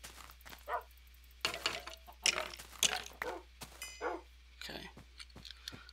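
Several tamed dogs in a blocky survival video game give short, sharp barks in scattered bursts, fairly close; one brief spoken word slips in between.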